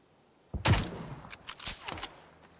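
A single sharp sniper rifle crack in the console shooter PUBG rings out fairly loud, followed by a few softer thuds and scattered shots fading into quiet.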